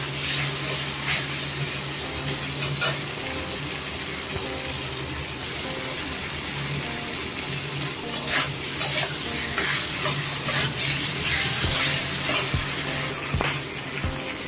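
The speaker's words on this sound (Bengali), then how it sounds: "সব মশলা ভালোভাবে কষানো হয়ে গেছে" Spices with chili powder fry and sizzle in a pan while being stirred, giving a steady close hiss with scraping spatula strokes and occasional clinks.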